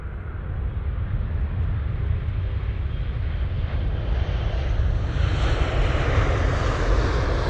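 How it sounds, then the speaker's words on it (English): Aer Lingus Boeing 787-9 Dreamliner jet engines roar in a steady, loud, broadband wash that swells slightly toward the end, with no voices over it. "So here's that beautiful 787-9 Dreamliner."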